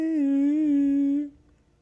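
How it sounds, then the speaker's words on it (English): A pet cat in a home gives a single sustained, tonal meow lasting over a second, clear and close, then fades into quiet room noise. "Did you hear him meow?"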